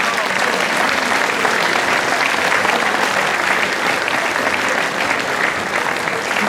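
Concert audience at a Slovenian folk event in Koprivnica clapping loudly and continuously, a dense, even roar of hands with no breaks across the whole stretch.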